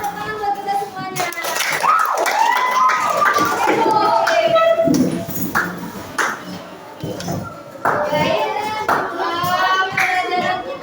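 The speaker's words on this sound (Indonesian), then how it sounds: "tepuk tangan buat kita semuanya" Children in an elementary school classroom clap their hands amid excited shouting and voices, with rhythmic bursts of clapping that pause briefly midway and then resume, all close and lively.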